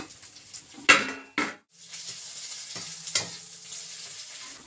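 Malabar spinach is tipped into a hot pan with fried shrimp, giving two sharp clanks and a rush of sizzle that settles into a steady hiss with a few stirring knocks.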